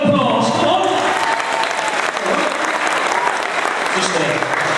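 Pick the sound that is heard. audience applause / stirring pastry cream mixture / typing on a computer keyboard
audience applause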